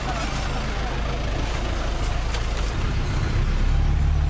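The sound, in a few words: bus engine running in Bali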